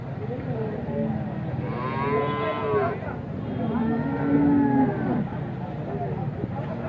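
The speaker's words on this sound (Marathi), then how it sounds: "चांगली गाई आहे. व्यापारी बांधवांची गाई आहे." Cows moo repeatedly at a busy cattle market, with long low calls rising over a steady crowd murmur and background voices.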